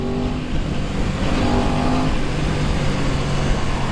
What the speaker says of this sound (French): Elle fait un joli bruit pour un bicylindre.